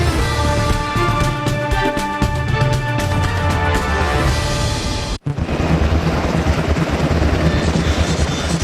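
A loud, steady Black Hawk helicopter rotor roar with heavy low rumble that drops out for an instant, then resumes just as strong.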